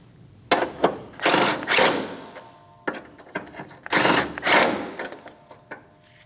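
A tool tightening 10mm bolts on a radiator side bracket of a 2003-2007 Cadillac CTS 3.6L V6, heard as several short close whirring bursts with clicks and ratcheting in between.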